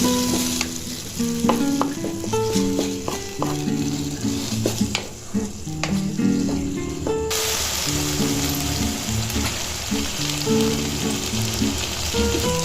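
Salted okra fries and sizzles steadily in a pan while a utensil scrapes and stirs it in bursts, close and fairly loud, with no one talking.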